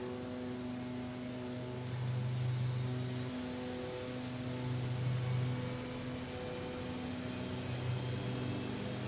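Aircraft engine spooling up during start-up, the left engine started after the right on a multi-engine airliner, a steady loud turbine whine with layered tonal hum and slight surges, continuous with no talk.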